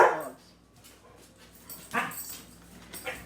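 Pet dogs in a home kitchen give a few short barks and whimpers, a sharp yelp at the start and a couple more at the end, fairly close with quiet gaps between.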